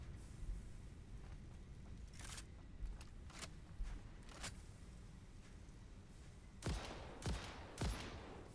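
A gun fired in Satisfactory sounds as a series of sharp, separate shots spread over several seconds, with a few heavier bangs near the end, over a steady low background rumble.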